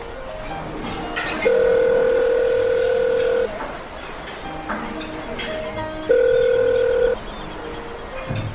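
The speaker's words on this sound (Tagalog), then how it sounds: "Tawagan ko nga si Lyda." A telephone dial tone sounds twice while a call is being placed, a steady electronic tone holding for about two seconds and then again for about one, over faint background noise.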